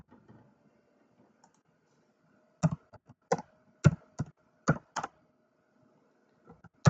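Keys typed on a computer keyboard while writing an SQL HAVING query: a sparse run of sharp clicks in small clusters, close and fairly crisp, with no talk over it.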